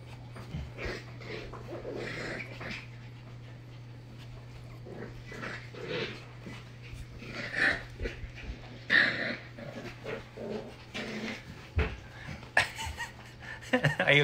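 Corgi puppies play indoors, giving scattered small growls, whimpers and yips between soft scuffling, with a constant low hum underneath.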